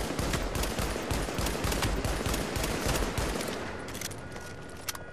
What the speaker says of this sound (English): I'm getting shot from far away.